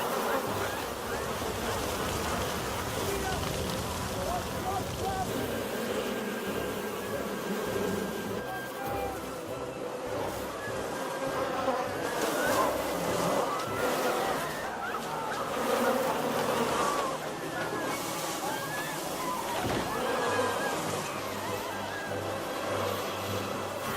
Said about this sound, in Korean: 파리가 저렇게 많으면은 힘든 겁니다.